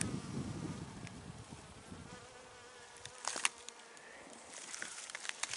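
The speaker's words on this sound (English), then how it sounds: "There's a honeybee in there. One of our honeybees." A honeybee buzzes faintly among spring orchard blossoms of plum, cherry and apricot, a soft wavering drone with a few brief louder passes near the end against a quiet outdoor background.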